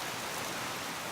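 Heavy rain pours down steadily on the Appalachian Trail, a dense, continuous broadband hiss with no breaks, close and even throughout, with no voices.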